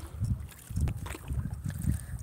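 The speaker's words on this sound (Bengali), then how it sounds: "এটা একটা খুব সুন্দর বোট রাইড, খুবই সুন্দর বোট রাইড।" Boat ride on open water, with soft low rumbling swells of wind and water noise rising and falling, fairly quiet and continuous with no talking.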